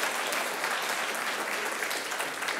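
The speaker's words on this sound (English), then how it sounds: "I got a clapping ovation for coming through the door." Steady applause from an audience greeting a person entering, dense continuous clapping filling the room at a moderate, even level throughout.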